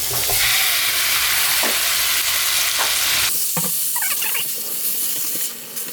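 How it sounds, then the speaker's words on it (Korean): Minced garlic and kimchi stir-fry in sesame oil in a pan, with a loud continuous sizzle and scraping stirs that briefly quieten near the end, with no voices. "다진 마늘을 큰술 올려서 송송송송 볶아줄게요"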